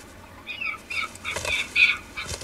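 Birds flap and call as they gather at a wolf's kill high in the African mountains, bursts of wingbeats and squawking cries rising in uneven clusters, nearby and lively.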